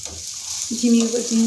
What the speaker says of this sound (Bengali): আর একটু লাল লাল করে ভেজে নেব।